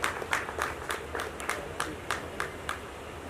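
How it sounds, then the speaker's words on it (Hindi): Audience clapping at a music video launch event as a guest is welcomed to the stage, a fairly sparse stream of claps in a loose, regular rhythm over a low background rumble, with some speech mixed in. "रूमी जाफिर साहब से गुजारिश करता हूं पुरजोर तालियों से इस्तकबाल करें तो डाइस पर तशरीफ ले आए।"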